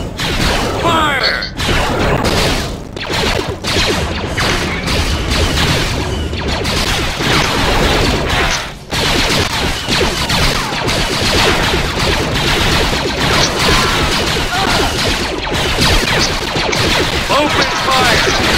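Blaster fire in the Star Wars Empire at War video game: a loud, continuous barrage of rapid shots and crashes layered with mechanical clatter, dense and unbroken throughout.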